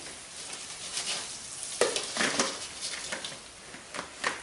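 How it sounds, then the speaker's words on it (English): Crappie fish come out of a deep fryer, bubbling oil and sizzling with scraping and clattering of a basket or utensil in bursts, moderately close. "last batch of fish coming out of the deep fryer"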